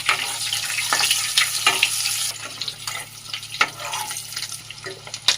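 Eggs frying in oil with turmeric in a pan for an egg and drumstick curry, giving a steady close sizzle with scattered pops and crackles, no voices.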